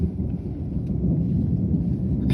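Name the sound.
thunder during a storm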